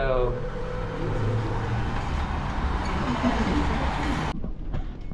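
A Singapore metro train rolls along with a steady rumbling roar and faint rail noise, fairly close, before the sound drops off abruptly near the end.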